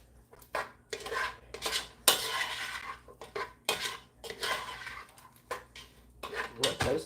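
A utensil stirs caramelizing onions in butter in a pan, making repeated scraping and clinking bursts of metal against cookware, close and fairly loud, with short pauses between strokes.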